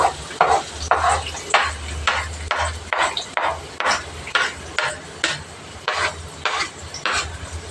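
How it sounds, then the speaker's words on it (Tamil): Chopped onion and tomato are sautéed in a pan, with a steady sizzle and a rhythmic scrape and stir of a spoon against the pan repeating about every half second, heard up close. "வெங்காய தக்காளி போட்டு வதக்கிக்கலாம்"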